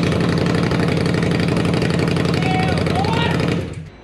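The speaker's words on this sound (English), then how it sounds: "we have to start it without any muffler on it at all" An Indian Scout motorcycle engine runs with no mufflers fitted, a loud, harsh, rapid idling rumble with metallic clatter that holds steady before abruptly cutting off near the end.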